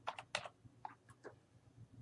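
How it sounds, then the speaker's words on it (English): A few quick, soft clicks of typing a name on a computer keyboard, faint and close, in short bursts over a quiet background. "you can also simply type into the window"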